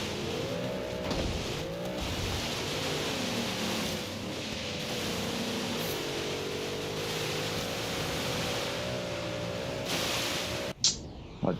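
A car engine held at full throttle in the racing video game Forza Horizon 3 drones loudly and continuously, its pitch wavering slightly, then cuts off abruptly into a brief crash-like burst at the end.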